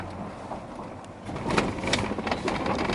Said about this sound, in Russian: слышен наш глушитель